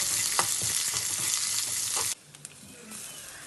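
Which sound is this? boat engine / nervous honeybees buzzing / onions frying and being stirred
onions frying and being stirred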